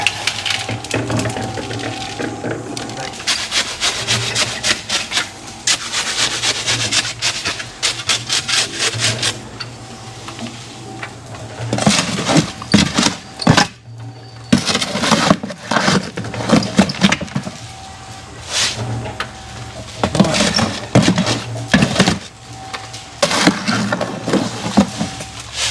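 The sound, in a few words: mixing a batch of concrete by hand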